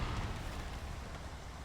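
Rain falls steadily in a modded snow-driving video game, a soft, even hiss with a low rumble underneath and no voices.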